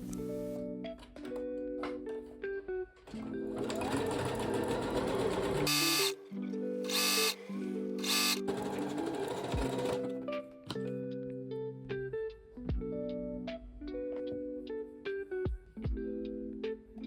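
A domestic sewing machine stitches a beginner's asymmetrical top in repeated bursts of fast needle chatter with brief pauses between seams, loud and close, with a steady motor hum throughout.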